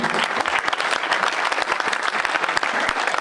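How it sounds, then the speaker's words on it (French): An audience at a medical innovation awards ceremony applauds prize winners from Marseille with brisk, dense clapping that holds steady and fairly loud for three seconds, with no voice breaking through. "Bravo messieurs, on peut vous applaudir"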